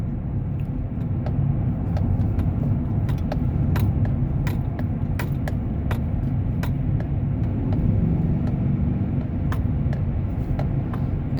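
A 2015 Chevrolet Silverado pickup cruises steadily along a road, its low engine and tyre rumble holding constant and close with no pauses and no voices.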